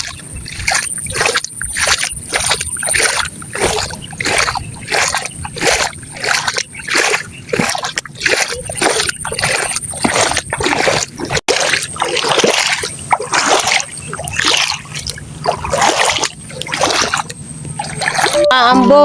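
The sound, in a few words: wading through floodwater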